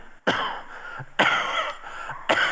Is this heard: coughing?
yes